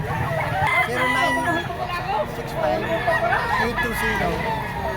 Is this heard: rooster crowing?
yes